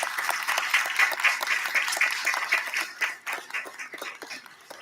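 Steady applause from a concert audience for a string quartet, dense clapping that fills the room and then thins out toward the end.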